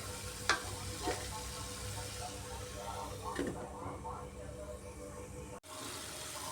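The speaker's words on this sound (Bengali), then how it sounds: "জল দিয়ে আবার একটু ঢাকা দিয়ে মশলাটাকে নরম করে কষিয়ে নিচ্ছি" Spice paste for a spicy cabbage dish softening in a covered pan with a splash of water, giving a steady low sizzle and bubbling, with a few soft stirring clinks near the start and a brief lid knock.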